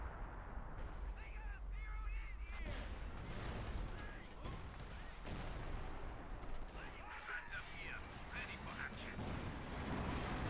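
Priest self-propelled artillery firing in the video game Company of Heroes 2, with scattered booms and crackling blasts at moderate distance amid battle noise, while a voice talks over it.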